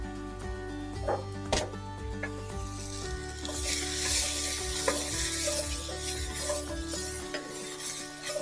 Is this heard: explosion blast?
no